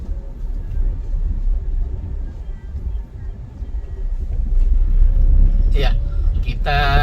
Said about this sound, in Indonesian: Ada kemacetan di depan karena ada kendaraan yang mau keluar, sehingga sempat menghambat kendaraan-kendaraan roda 2 yang akan lewat.